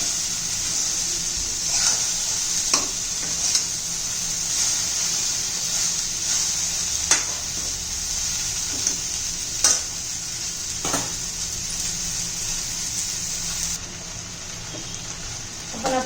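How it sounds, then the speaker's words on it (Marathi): Okra (bhindi) fries uncovered in a pan with a constant bright sizzle, while a spatula stirs it with occasional scrapes and taps, close and steady throughout. "परत एकदा हलवून घेऊया"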